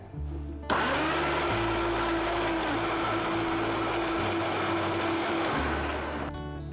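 A kitchen blender purees a soup of avocado, poblano and cilantro, whirring loud and steady for about five seconds after a quick start-up, then cutting off.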